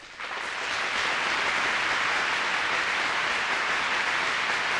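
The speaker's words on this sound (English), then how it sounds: "Your audience will applaud." Applause sound effect from the GarageBand app, a dense crowd clapping that swells in over the first moment and then holds steady and loud, alone with no talk.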